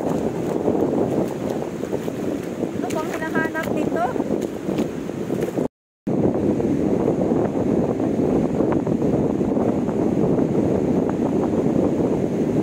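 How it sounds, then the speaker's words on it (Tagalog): Strong wind buffets the microphone in a constant loud roar, with a short voice speaking briefly under the gusts and a brief dropout midway. "Lakas ng hangin."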